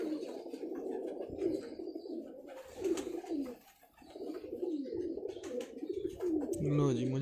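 Pigeons coo in repeated soft, throaty rolling calls, close and steady, with a brief lull midway and a voice speaking over them.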